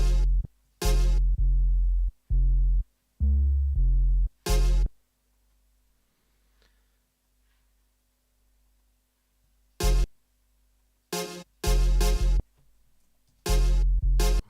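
A soloed 808 bass pattern from a jungle track plays alone in deep, punchy, booming hits in short irregular bursts, separated by a long silent gap in the middle.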